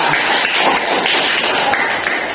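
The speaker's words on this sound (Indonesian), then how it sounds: "tepuk tangan Mbak Tiara" A classroom of students claps for a classmate, a steady, fairly loud patter of many hands that carries on without pause for a couple of seconds.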